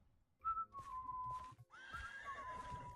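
A horse whinnies twice in fairly clear, moderately near calls, the second longer and rougher, with faint rustling and no talking.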